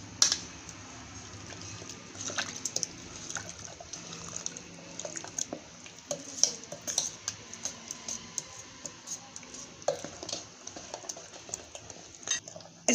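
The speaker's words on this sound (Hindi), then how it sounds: "और इसको अच्छे से मिक्स कर देंगे।" Spoon scraping and clinking in a bowl as rava idli batter with added water is mixed, an irregular run of wet stirring clicks and taps, close and moderately loud throughout.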